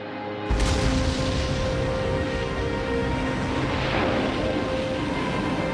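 A deep, sudden boom as a plane strikes a World Trade Center tower and explodes, breaking in abruptly and giving way to a sustained, loud, rumbling roar that carries on without letup.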